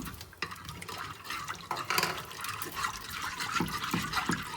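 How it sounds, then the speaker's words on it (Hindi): Milk pours into a pan for a white cheese sauce: a steady liquid splash and trickle, fairly close and unbroken, with no talk over it. "और अब इसके अंदर दूध ऐड कर देंगे"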